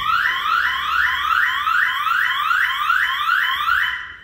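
A Patrol Line car alarm on a Hyundai Accent, set off by a vibration sensor, sounds a loud, steady run of rising electronic whoops repeated about every third of a second for several seconds, then cuts off abruptly.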